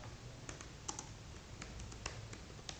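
Crisp, separate keystrokes tap out C code on a computer keyboard in an irregular rhythm, close by and alone in a quiet room.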